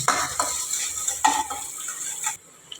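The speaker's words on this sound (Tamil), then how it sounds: "வெங்காயம் கோல்டு கலர் ஆகிற வரையும் நம்ம வதக்கணும்" Onions stirred in a pan as they sauté toward golden brown for egg rice, a steady sizzle with repeated scraping strokes of a spoon against the pan, close and fairly loud, no talking.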